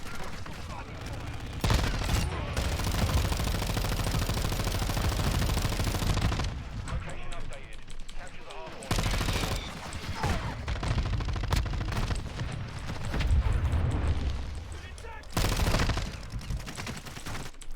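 Sustained automatic fire from a RAPP H light machine gun in a shooter video game, dense rapid bursts with brief pauses and loud, close gunfire throughout, under a talking voice.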